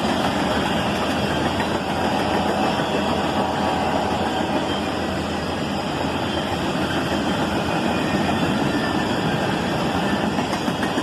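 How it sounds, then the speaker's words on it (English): An empty continuous welded rail train rolls past behind a CSX SD40-2 diesel locomotive, giving a loud, steady roar of engine and rail noise that holds at one level throughout, with no voices. "An XC&O SD40-2 leads this empty continuous rail train."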